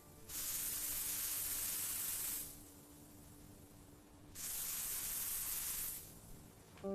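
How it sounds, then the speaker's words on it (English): Two long hissing bursts of spray from an air freshener can, each lasting about two seconds with a pause between, fairly quiet and close in a room, with no voices. "I spray air freshener."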